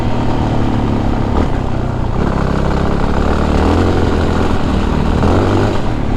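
A KTM enduro motorcycle engine warms up at close range, a loud steady idle with a low rumbling throb that rises in brief revs partway through and holds a continuous, uneven beat, with no talking over it.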